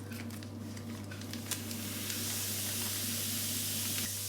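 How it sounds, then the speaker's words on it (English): Baking powder fizzes and hisses in hot water in a pot used to clean old baking molds, a steady bubbling hiss over a low hum that grows denser toward the end. "now let's add 6 teaspoons of baking powder, and now you will see the chemical reaction, which will help to clean the molds"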